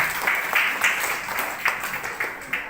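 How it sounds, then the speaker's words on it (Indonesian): A small group of students in a classroom gives a short round of clapping, scattered individual claps audible within a fairly quiet, brief burst. "Tepuk tangan lagi."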